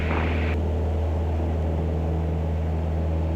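A light aircraft engine runs at full power during the takeoff roll, a steady droning hum with strong low tones that stays constant and close for the whole stretch, with no voices.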